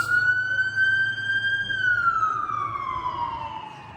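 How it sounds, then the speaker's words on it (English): An ambulance siren wails in one long steady tone that holds, then slides lower as the vehicle passes and moves away. "Look, there goes an ambulance."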